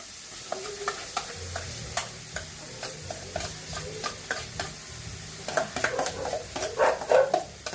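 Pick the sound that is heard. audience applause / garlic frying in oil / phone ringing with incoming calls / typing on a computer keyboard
garlic frying in oil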